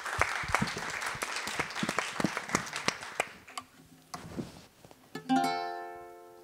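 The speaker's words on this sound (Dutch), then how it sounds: "mag ik een groot applaus voor Janneke Jager" Applause for a performer, heard as scattered individual claps that thin out and fade to sparse taps, then a sustained piano-like chord rings out and decays.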